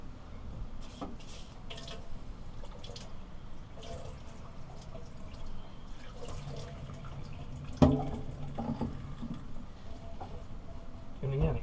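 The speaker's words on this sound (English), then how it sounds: "Let's rinse that." Running water rinses a boat portlight after sanding, splashing and dripping steadily throughout, with a sharper splash near the end.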